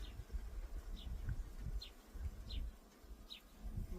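Honeybees buzz softly around an open hive during a spring inspection, a low steady droning hum with faint rustling, while small high chirping sounds recur at regular intervals in the background.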